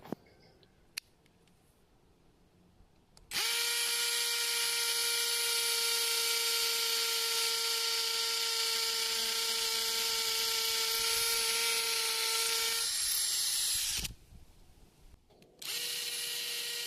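An INGCO mini brushless cordless drill runs steadily at full speed for about nine seconds, a loud whining motor hum that stops abruptly, then starts up again briefly after a short pause.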